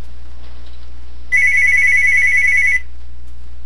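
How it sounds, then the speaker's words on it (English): Mobile phone ringtone sounding once, a loud bright electronic tone lasting about a second and a half, alone with no talking. "Oh, my phone's ringing."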